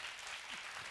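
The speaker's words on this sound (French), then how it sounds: "Je voudrais qu'on les applaudisse très fort." An audience at a prize-giving ceremony for the 2017 Wozo contest winners gives a dense, steady burst of applause that fills the whole brief moment.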